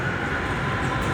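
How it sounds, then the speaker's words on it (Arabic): Steady rumbling roar of a metro train pulling into a station in Spain, a continuous close mechanical wash with no voices. "المترو جا،"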